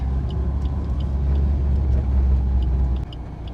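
Car driving around a traffic circle, a close steady engine and road rumble from inside the cabin, continuous for a few seconds before dropping slightly, with no talking.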